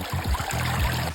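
Creek water runs through a 6-inch Goldrat sluice, a close, continuous gurgling and trickling with low sloshing pulses as the flow washes over the riffles, steady and fairly loud with no voices.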